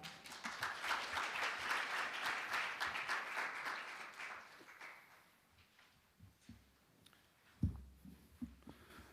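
Audience applause welcoming a presenter at a new-technology certification forum, a full, dense burst of many hands clapping for about four seconds that then fades into a quiet hall with a few scattered thumps.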